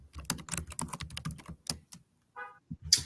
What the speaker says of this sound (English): She's typing it in.